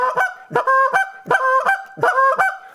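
Someone works a goose call to imitate excited geese, producing rapid two-note honks and clucks in quick repeating bursts, loud and close with no talking.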